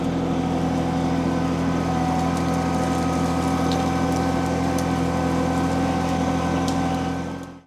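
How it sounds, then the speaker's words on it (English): A 25 HP tractor engine labors at a constant, deep droning pitch while pulling a heavy load, loud and close, holding steady before cutting off abruptly at the end. "The tractor actually struggled pulling that out."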